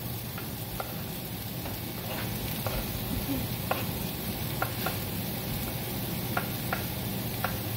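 Tomatoes hitting a hot pan with other vegetables for marlin a la Mexicana, a soft steady sizzle with scattered ticks and clicks of stirring, moderately quiet and close.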